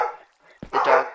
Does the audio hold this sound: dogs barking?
yes